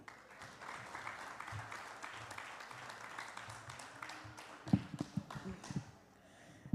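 An audience at a temple religious discourse claps for a swami, a faint, distant patter of applause spreading through the hall and thinning out toward the end.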